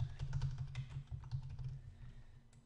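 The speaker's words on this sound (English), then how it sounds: "Type in your text." Typing text on a computer keyboard: a quick, close run of soft key clicks and taps that slows and thins toward the end, with no talk.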